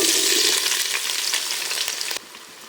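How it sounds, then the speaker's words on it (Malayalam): Three chopped onions fry in hot coconut oil, a loud bright sizzle with stirring scrapes that drops abruptly to a quieter hiss near the end. "അതിലേക്കൊരു 3 സവാള അരിഞ്ഞത് ഇട്ട് കൊടുക്കാം."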